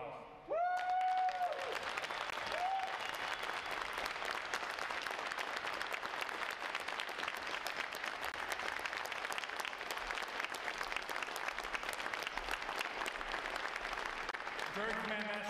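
At a U.S. Navy Recruit Training Command graduation ceremony, a large audience applauds the Command Master Chief with sustained, even clapping that fills the hall, preceded by a brief tonal sound and a voice at the start.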